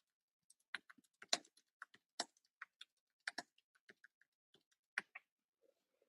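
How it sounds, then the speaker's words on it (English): Quiet, scattered keystrokes on a computer keyboard, irregular clicks and taps in short bursts with pauses, close to the microphone and alone with no talking. "while I'm typing that"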